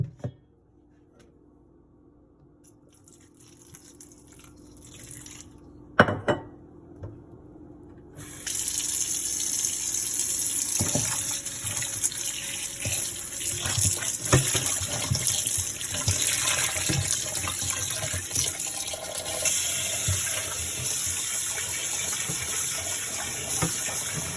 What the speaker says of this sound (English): Now I'm gonna wash it with some vinegar.